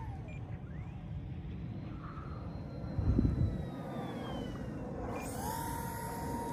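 A Stryker FPV model airplane makes a low pass, and its faint motor whine glides downward in pitch as it goes by. The whine sits over a steady outdoor wind rumble, with a brief louder swell near the middle.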